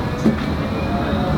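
A Blackpool tram rolls along with a steady low rumble and rail noise, a brief bump near the start, heard from inside the car for a short stretch.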